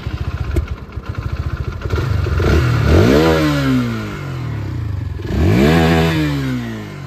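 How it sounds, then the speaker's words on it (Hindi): Two 160 cc motorcycles, a Bajaj Pulsar N160 and a Hero Xtreme 160R, idle with a thumping exhaust beat, then rev hard twice, each throttle blip rising sharply and falling back, loud and close. "एग्जॉस्ट नोट मैं आपको सुना देता हूँ दोनों का"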